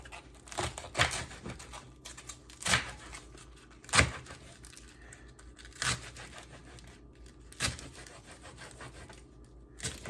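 Knife chopping collard greens on a cutting board, a series of sharp, irregular cuts and rustling leaf crunches, close and fairly loud with no voices.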